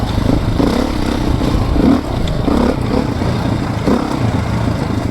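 Beta 430RR motorcycle engine running steadily while being ridden, a loud, continuous low rumble with slight throttle swells and mechanical clatter, close and constant throughout.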